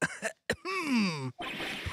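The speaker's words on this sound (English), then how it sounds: "Maybe I should clear my throat." Two quick throaty bursts, then a drawn-out voiced throat clearing in Phoenix Wright: Ace Attorney that slides downward in pitch, close and fairly loud, ending in a rough breathy rasp.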